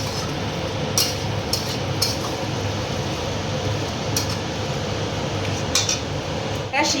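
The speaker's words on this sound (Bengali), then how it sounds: "এবার মাংসটা কষাতে থাকবো।" Meat being sautéed and stirred in a pot, with a steady frying sizzle and several sharp metallic clinks of a spoon against the pot at irregular intervals.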